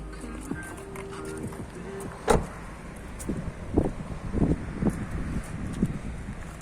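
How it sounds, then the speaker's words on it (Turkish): Trunk lid of a Mitsubishi Lancer opened up close, giving a sharp latch release and a short mechanical thunk, followed by softer clunks and handling noises while a person talks nearby. "Şuradan bagajımızı açalım."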